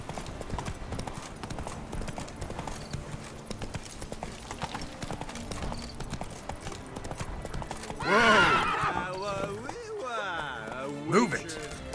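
Roach, a horse in The Witcher 3, gallops with steady rhythmic clip-clop hoofbeats throughout, then gives a loud, close whinny partway through, with another short neigh near the end.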